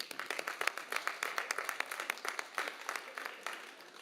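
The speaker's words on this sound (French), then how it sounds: "elle le mérite, on peut l'applaudir." Applause from an audience at a regional council budget session, steady dense clapping with sharp individual claps standing out, moderately distant and fairly quiet, tapering slightly toward the end.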